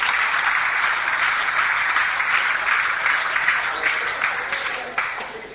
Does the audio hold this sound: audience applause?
yes